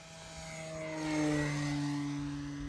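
A Durafly Night Tundra RC model airplane flies at night, its electric motor giving a steady whining drone that swells as it passes closer, then eases slightly, heard outdoors with no talk.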